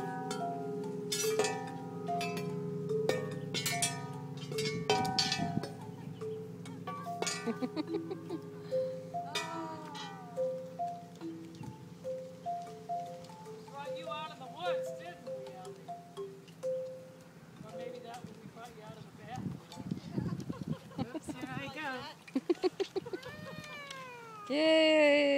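Percussion chimes at a Tibetan Buddhist retreat, struck several times in quick succession, each with a ringing tone that lingers and overlaps the others, followed by quieter scattered strikes and wavering tones.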